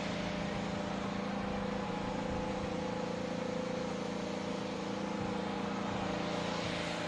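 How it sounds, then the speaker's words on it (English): IndyCar engines rev on pit road ahead of a pit stop challenge at the Hy-Vee IndyCar race weekend, a steady broadband roar with a hum running the whole time, distant and mixed into crowd ambience. "we can hear the engines revving down there"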